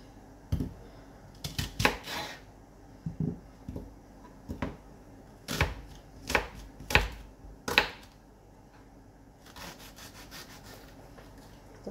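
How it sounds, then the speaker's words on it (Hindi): A knife chops red onion into small cubes on a board in a home kitchen, giving irregular clusters of crisp taps and scraping cuts, close but soft, with no talking. "छोटे छोटे क्यूब करके इसमें डाल दूँगी मैं जल्दी से"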